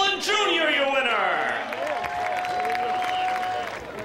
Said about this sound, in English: a big Beech Ridge round of applause for tonight's Wildcat winner